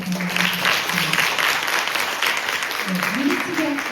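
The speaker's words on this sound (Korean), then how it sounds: "큰 박수로 맞이해 주시기 바랍니다" Ceremony audience at a drug-eradication supporters' launch event applauding to welcome guests, a dense, steady wash of clapping throughout with a presenter's amplified voice talking over it.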